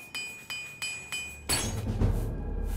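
A repair hammer mending equipment in the fantasy role-playing game Nehrim: five evenly spaced metallic clinks ring out close and clear, then a heavier crunching clatter follows. No one speaks.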